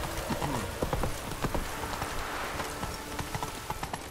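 Horse hooves clip-clop steadily in The Witcher 3: Wild Hunt, a continuous, moderately loud trotting rhythm over soft ambient noise.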